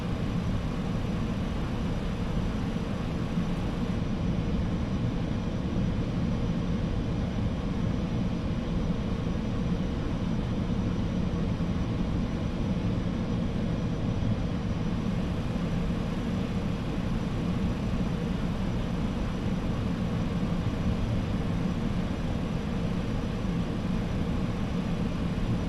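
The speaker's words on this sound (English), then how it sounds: "I find it easier taxiing a Concorde than a normal airliner, really." Concorde jet engines whine and roar steadily during taxiing in Microsoft Flight Simulator, an even, broadband drone of moderate level with no talk.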